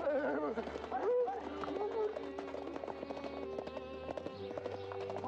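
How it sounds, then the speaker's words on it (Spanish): A horse trots in a 1978 Mexican comedy film, giving steady rhythmic clip-clop hoofbeats beneath voices and music. "Ahora vámonos al trote."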